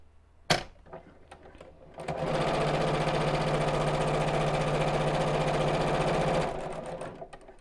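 Janome sewing machine stitching fabric: after a sharp click and a few handling taps, a fast, even mechanical whirr runs steadily for several seconds, then stops, followed by light clicks.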